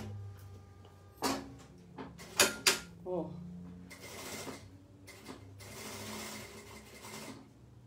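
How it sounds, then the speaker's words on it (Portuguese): Sewing machine stitching a seam all the way around a small crochet yarn-holder bag, a steady whirring run after a few clicks and knocks of handling, fairly quiet and close. "Vou passar uma costura agora, ó, em toda a volta, tá?"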